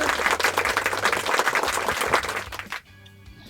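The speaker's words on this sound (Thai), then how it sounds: "ปรบมือต้อนรับหัวหน้าหญิงด้วยครับ" An audience claps in welcome for a female office chief, known as Hua Na Ying, arriving as a guest on a board-game show. The applause is dense and steady for nearly three seconds, then cuts off into quiet.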